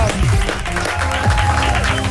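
Studio audience applauds after a live performance, a dense burst of clapping and cheering with a host's voice calling out over it.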